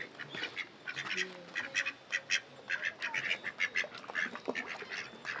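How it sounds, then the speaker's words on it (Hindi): Several ducks quack in quick, uneven bursts close by, their nasal calls overlapping over faint background noise. "बतख को डराता हुआ, इसको देख के डर गई बतखें।"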